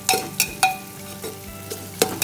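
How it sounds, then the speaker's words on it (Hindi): Egg biryani masala is stirred and fried in a pressure cooker, with a spoon scraping the pot in irregular strokes over a steady close sizzle. "आप देखिए प्रॉपर भून रहा है"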